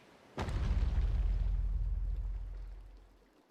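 Fireworks in the video game Civilization 7: a sudden sharp burst followed by a deep, rolling rumble that fades away over a few seconds, with no talking.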